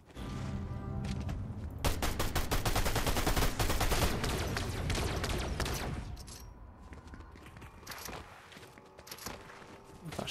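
Dense, rapid gunfire in a Fortnite match: close, loud bursts of shots overlapping with each other, thinning out toward the end.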